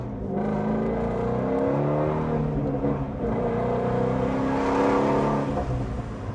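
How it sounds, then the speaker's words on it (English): A 2015 Shelby GT350R engine revs hard and close, its throttle climbing and easing in smooth harmonic sweeps, loud and continuous with no talking. "But it's the best sounding engine."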